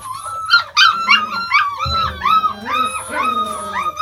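Young deerhound lurcher puppies, almost six weeks old, whimper and howl in a litter, a close chorus of overlapping high yips and wavering cries, with a person talking faintly underneath.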